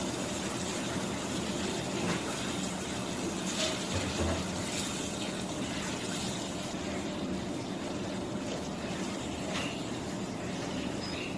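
Water is poured into a pot of minced-meat and tomato curry, making a continuous broad rushing, hissing wash that holds steady throughout with no talking.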